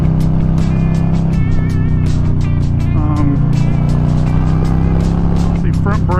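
A 2022 Harley-Davidson Low Rider S motorcycle being ridden, a loud steady low engine rumble with a strong throbbing tone close by, under a rider's talk.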